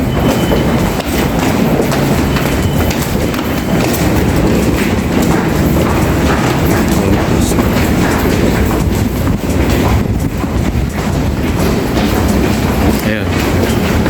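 A Paris Metro train runs loud and close with a steady rumble and rattling clatter throughout, and speech is mixed in under the train noise.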